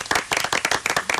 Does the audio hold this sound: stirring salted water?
no